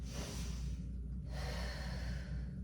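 Steady exhalations during a standing glute exercise, soft breathy air with gasp-like and snorting edges, close and alone over a constant low hum with no talking.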